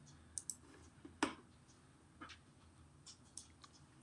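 Computer mouse clicks, a handful of sharp, quiet, close clicks scattered irregularly over a faint room background, with no talk.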